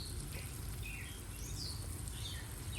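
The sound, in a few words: birds singing in a backyard at dawn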